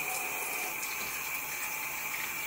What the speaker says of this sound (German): Dann mach mal neues Wasser rein